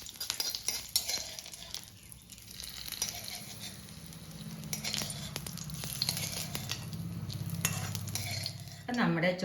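Hot mustard seed and curry leaf tempering poured into Palakkad-style mango curry: a steady sizzle and crackle with occasional utensil clinks, a low hiss building under it, then a sharp clatter at the end.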